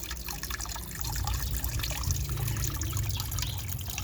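Continuous light splashing and trickling water as a young starling bathes, steady and close for a few seconds with no voices.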